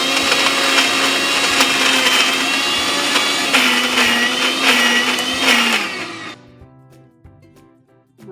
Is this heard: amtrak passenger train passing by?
no